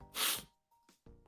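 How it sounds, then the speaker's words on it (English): A single sharp, explosive sneeze up close, followed by a few soft breaths and small mouth sounds. "Oh, man, I'm going to sneeze again."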